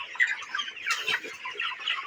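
Broiler chickens on a farm in winter cluck and chirp in a busy, overlapping chatter, near and moderately loud, with no talk over them.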